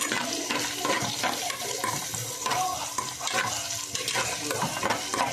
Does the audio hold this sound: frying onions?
yes